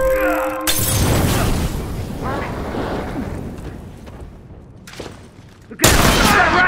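Rifle gunfire in a tense bookstore confrontation, sharp loud cracks with a burst at the start, shattering debris and echoing decay, a muffled quieter stretch, then another abrupt loud blast near the end.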